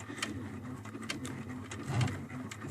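A sewing machine tacks a towel piece in place, making short, quiet bursts of rapid stitching with a soft mechanical whir nearby.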